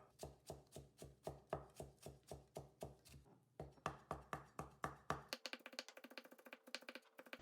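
A knife chops peeled ginger into thin strips on a cutting board, with steady rapid knocks close up, then a short pause and a faster run of lighter cuts.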